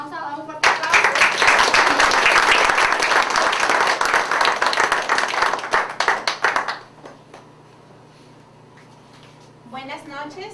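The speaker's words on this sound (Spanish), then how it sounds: "Le vamos a dar un fuerte aplauso." Loud, dense applause from a crowd fills several seconds, then fades into quiet room tone before a voice begins speaking.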